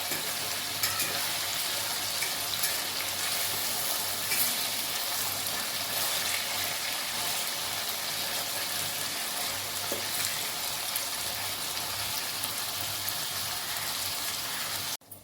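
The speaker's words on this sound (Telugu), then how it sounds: "చూడండి, బాగా ఫ్రై అయిపోయినాయి టమాటాలు" Tomatoes frying in a pan for a tomato pickle, a dense steady sizzle with occasional stirring scrapes, close and continuous for about fifteen seconds before cutting off.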